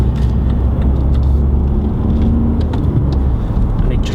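A 2006 BMW 1 Series M Sport with a 1.6 engine accelerating from inside the cabin, a loud, steady low engine rumble and road roar throughout.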